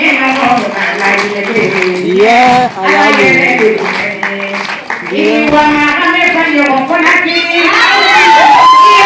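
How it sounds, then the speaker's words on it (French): An audience at an evening celebration cheers and applauds loudly, with shrill excited shouts and children's voices over steady clapping throughout. "applaudissez s'il vous plaît pour ma grande soeur, ma maman, ma soeur."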